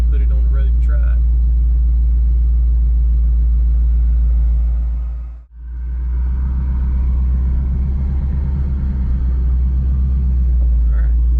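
A 1000-horsepower 2019 Ford Mustang drag car idles with a loud, deep, steady rumble, close by and continuous, while people talk over it.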